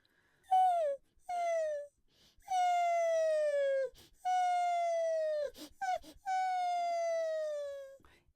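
A single voice imitates a puppy whimpering as a head-voice singing exercise: five drawn-out, falling whines in a row with short pauses between them, close and clear.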